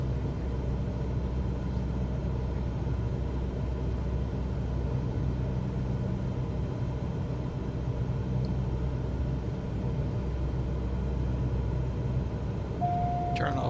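Steady droning engine of a small airplane on final landing approach with flaps lowered, a continuous low rumble holding at an even level throughout, with a brief higher whine near the end.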